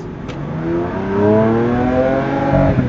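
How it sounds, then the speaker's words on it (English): Lamborghini Aventador LP 740-4 S Roadster, 2019, with its single-clutch gearbox: a loud V12-style engine note climbs steadily under acceleration, then a sudden break near the end marks the gear shift, close and without talk. "it is a single clutch system that is pretty quick"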